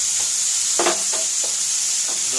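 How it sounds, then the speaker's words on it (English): Shredded beetroot stirred in a pan over a medium-low flame: a steady bright hiss of gentle sizzling with a few soft scraping strokes of a spoon, close and fairly loud, no talking. "Now we have to stir it well."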